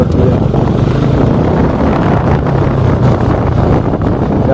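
A Bajaj Pulsar RS200 BS6 motorcycle is ridden on the road, its steady low exhaust rumble mixed with heavy wind buffeting across the microphone, loud and continuous with no talking.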